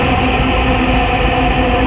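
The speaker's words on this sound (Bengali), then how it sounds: "এই যে আরেকটা মেট্রো রেল" A metro train rushes past as a loud, steady rumble with a dense roar that holds level throughout the short stretch, with no voices.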